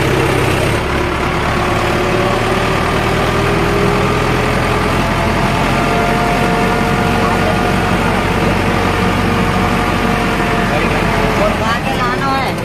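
A tractor engine runs steadily while hauling a loaded trolley, a continuous low diesel drone throughout, with people talking over it.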